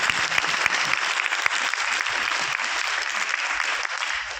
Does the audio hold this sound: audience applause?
yes